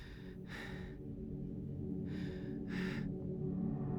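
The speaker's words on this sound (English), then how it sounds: "while he's looking through it, we hear the panting, the heavy panting" Heavy panting in the Silent Hill: Origins video game, with a few breathy gasps in an uneven rhythm rising over a low, steady ambient drone.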